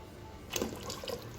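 Warm water splashes and pours into a cooking pot while making Persian ash reshteh noodle soup, a short burst of gurgling liquid that rises and trails off, fairly close and quiet.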